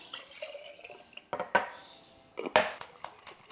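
A few sharp clanks and sloshing knocks as a covered metal pot with a drink inside is shaken, with quiet rustling between the bursts.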